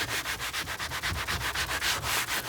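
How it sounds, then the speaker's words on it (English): Rough side of a sponge loaded with Bar Keepers Friend scrubbing stains out of boat carpet, a steady fast back-and-forth rasping stroke repeated about a dozen times, close and moderately quiet with no talking. "Just put it on a nice sponge on the rough side. Just want to grind into these spots right here."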